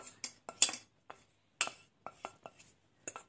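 Egg mixture for egg parotta is mixed in a bowl, with a utensil striking the sides in about a dozen sharp, close clinks that come in an irregular rhythm.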